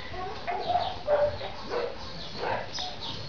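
Playful puppies give a few short, soft barks and yips in quick bursts against a steady background hiss, with faint voices in the room.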